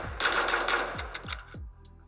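Rapid bursts of automatic gunfire in a video game played on a tablet rattle loudly, then several heavy single shots thump in a slower rhythm before fading to quiet.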